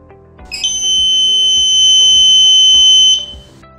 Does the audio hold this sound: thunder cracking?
no